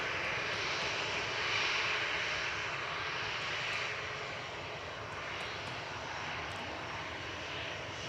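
A Qantas Boeing 737 jet at Gold Coast Airport, heard as a steady, broad engine roar that holds at an even level throughout with no talk.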